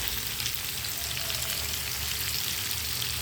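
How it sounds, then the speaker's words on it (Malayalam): Prawns frying in hot oil give a steady, dense sizzle that crackles evenly throughout, close and uninterrupted, with no voices over it. "ഇതാ എണ്ണയിൽ കിടന്നിങ്ങനെ വേകുന്നുണ്ട"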